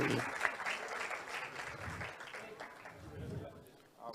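An audience applauds at a political party event in Telangana during a stethoscope and white coat presentation. Dense clapping from many hands continues throughout, with a speaker's amplified voice over the top.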